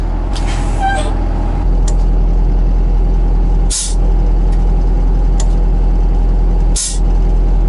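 A 36-year-old Ford dump truck sits running with a loud, steady engine rumble. Sharp hissing bursts of its air brakes letting go cut through a few times, close by.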